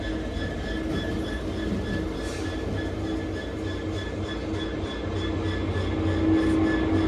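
A Class 66 diesel locomotive idles at a station platform in an unusual livery, its steady engine rumble and tonal hum continuing alone and rising slightly toward the end.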